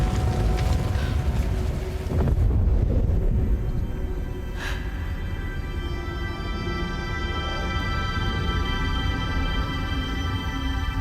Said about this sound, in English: a gust of wind blows over Atsu